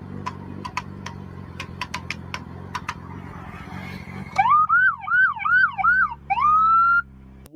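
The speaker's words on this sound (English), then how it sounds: "I got to splash my sirens at you." A police car siren cuts in after a few seconds of sharp clicks and low road rumble. It wails up and down several times, loud and close, then gives one long rising tone before stopping.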